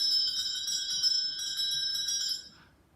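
A bell rings with bright, shimmering metallic tones that sustain steadily, then fade out near the end, with no voices over it.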